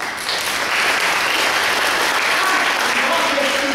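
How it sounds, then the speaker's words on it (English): An audience bursts into sustained applause, a dense, steady wash of clapping from a large crowd that fills the room without a break, with speech faintly mixed in. "Give her a round of applause."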